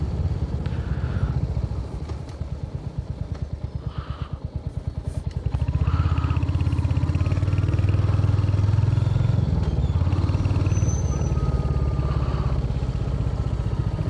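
A 350cc motorcycle engine thrumming while riding on the road, a loud steady mid-pitched drone that swells and rises in revs partway through, with wind and road rumble around it.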